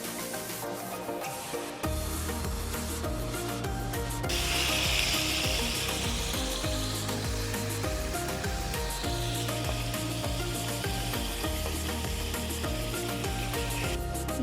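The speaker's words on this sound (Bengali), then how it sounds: "ম্যারিনেট করে রাখা ইলিশ মাছের পিসগুলো দিয়ে দেব।" Pieces of marinated hilsa fish drop into hot oil, and a loud sizzle builds and holds steady, with occasional scraping from a spatula nearby.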